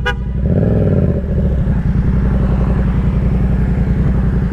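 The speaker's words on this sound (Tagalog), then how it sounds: "At may motor pa. May motor." A motorcycle engine revs loudly nearby on the road, a throbbing buzz rising in pitch then settling into a steady close putter.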